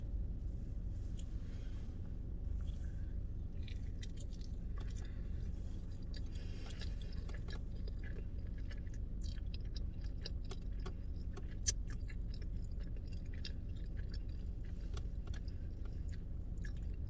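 Someone chews a Taco Bell steak quesadilla of cheese, tortilla and steak up close, producing soft, moist munching and faint crunchy bites over a low steady background hum, with no talking.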